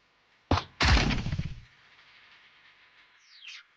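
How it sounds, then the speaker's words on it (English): An acid pistol in the VR game NEON Squad Tactics fires at a drone: one sharp shot, then a longer burst of crackling discharge that fades into a low hum, with a faint chirp near the end. "Try using your acid pistol to take it out."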